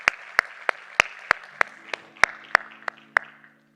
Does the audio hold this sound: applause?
yes